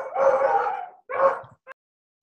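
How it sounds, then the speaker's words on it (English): Dogs bark in the background during a team video call: a long loud bark or howl, then a shorter bark and a brief yip, with no talking over them. "Someone has some exciting dogs."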